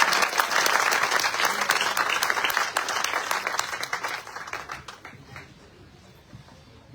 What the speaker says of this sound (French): si vous applaudissez, s'il vous plaît.